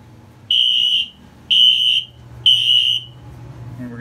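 Fire alarm system sounding during an audible walk test of a 9200UDLS panel, giving three loud, evenly spaced half-second electronic tones about a second apart, close by, with a low hum underneath.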